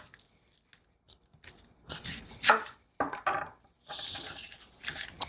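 A knife cuts through a small onion on a board in irregular strokes, starting with a few light taps and building into quicker, sharper chops up close.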